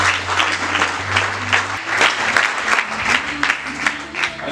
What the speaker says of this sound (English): can you clap our hands?